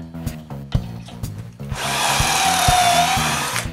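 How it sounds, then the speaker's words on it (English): A wood router with a 45-degree sign-making bit chamfers wood in a shop. A few short knocks come first, then the motor starts with a loud, steady whine that holds to the end. "So I use a router with a 1-inch collet and a sign marking bit."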